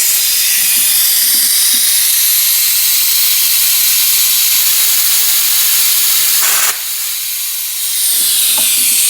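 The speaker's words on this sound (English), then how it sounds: "The stupid air nozzle is leaking." Compressed air leaking from an air nozzle on a 2018 GM truck's evaporative system, a loud continuous close hiss that briefly drops and quiets near the end before resuming.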